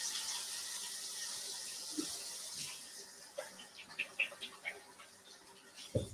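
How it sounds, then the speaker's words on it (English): Kitchen tap water running steadily into a sink while a hand is rinsed after cutting onion, a soft continuous wash with small splashes and a clunk near the end. "I need to rinse my hand off."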